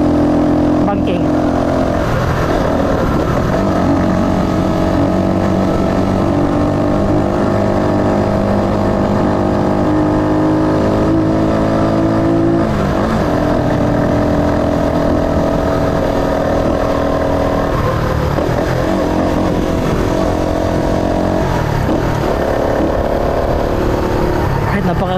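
A Rusi Flash 150 motorcycle engine climbs a steep uphill road in fourth gear, giving a loud, steady drone with slight rises in pitch. Someone talks over it throughout.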